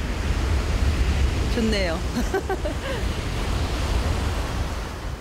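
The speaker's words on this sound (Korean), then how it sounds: "하얗게 부서지는 파도가 어서오라 손짓을 한다" Ocean surf breaks on a beach during a surfing outing, a steady broad roar of waves and wind filling the scene, with a man's short spoken remark briefly over it.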